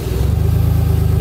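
A John Deere Gator 825i utility vehicle engine running steadily just after start-up, a close, loud, even mid-pitched idle with a rapid regular pulse throughout.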